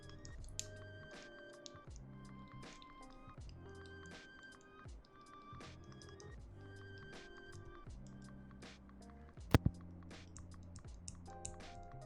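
Steady typing on a computer keyboard, quick irregular key clicks running continuously, fairly quiet and close, with a single sharper knock partway through.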